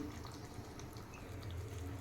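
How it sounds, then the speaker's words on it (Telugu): Water pours in a steady, quiet stream into a pressure cooker of goat head curry for a couple of seconds, with no voices. "ఇంకొక టీ గ్లాస్ అన్ని వాటర్ పోసుకోవాలండి"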